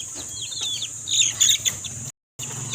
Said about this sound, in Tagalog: yung mga sisiw naman natin na 2 weeks old ayan sila